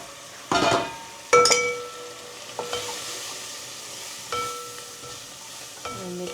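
Fenugreek and ground spices (Kashmiri chili, turmeric, coriander-cumin powder) frying in oil while a spoon stirs, giving a steady sizzle broken by several sharp scraping and clinking stirs against the pan.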